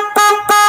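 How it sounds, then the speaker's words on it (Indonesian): Two short, loud honks from the horn of a Honda Vario 150 scooter, a bright buzzy tone sounded close with a brief gap between blasts; the bike has a noisy engine and won't start. "Ini satu kali klakson ini bisa."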